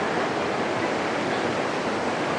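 Steady rushing water from a stream, continuous broadband flow with no breaks, loud and close, with no voices heard over it.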